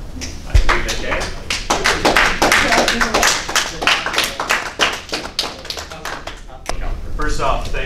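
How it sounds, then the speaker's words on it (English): A small audience at a Math 138 review session claps steadily for several seconds, a close, brisk patter of hands that fades out near the end. "I appreciate that you guys gave me a round of applause"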